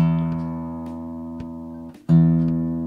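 Single guitar string plucked with the thumb rings out clearly and decays, then is plucked again about two seconds in, sustaining alone with a few faint clicks and no talking.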